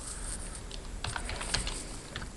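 Text typed on a computer keyboard, a steady patter of light close keystrokes that quickens midway, soft and alone over a faint background hiss.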